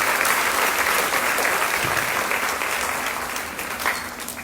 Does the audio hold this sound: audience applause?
yes